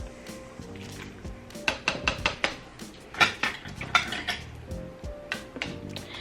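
A pot roast is turned over in a pan, bringing a cluster of sharp metallic clanks and scrapes of utensil against cookware, close and fairly quiet, with a low steady hum in the background.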